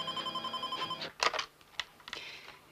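A telephone rings in a 1990 German crime drama, in a call-in TV show scene. Several quick, evenly spaced electronic rings are followed by a few close clicks and handling noises.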